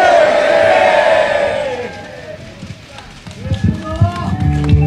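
A crowd at a Korean political rally roars and cheers, loud and close, fading briefly before voices and chanting surge back with clapping and shouts.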